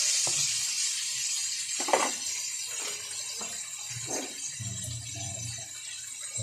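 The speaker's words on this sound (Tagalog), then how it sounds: "mauuna muna ang iprito yung chicken thigh" Chicken thighs fry in hot oil with a steady, close hiss, broken by a few louder crackling bursts and soft bubbling; no one speaks.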